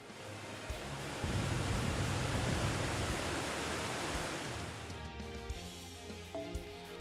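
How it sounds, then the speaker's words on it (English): A dense, steady rush of cascading coins pours like a waterfall in Fate/Grand Order, a broad hissing roar that swells early, holds loud for several seconds, then thins toward the end with a few scattered clinks. "Columbus's coins are pouring to a river like a waterfall"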